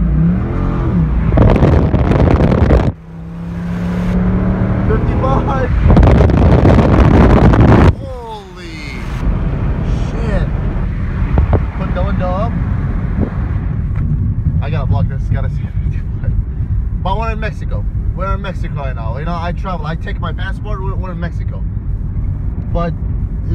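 Apollo IE supercar taking off at full throttle during a car week event in Arizona, a loud engine roar under wind buffeting that drops away partway through, with someone talking over the fading car noise.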